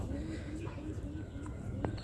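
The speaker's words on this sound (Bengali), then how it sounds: "এই যে এখানেও পয়রা" Pigeons coo softly in a pigeon loft at night, with several low, repeated coos over a quiet background.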